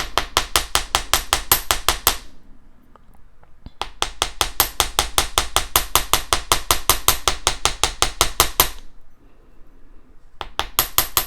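Copper wire for earrings is hammered flat in quick, sharp, evenly spaced metallic blows, close and loud, in two long runs separated by brief pauses, with no talking.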